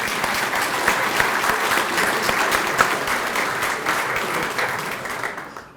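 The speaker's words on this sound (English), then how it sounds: "Round of applause." Sustained applause from an audience at a keynote address by Governor Tim Walz, honoring the Metropolitan Council chairwoman; dense, steady clapping that holds for several seconds, then fades at the end.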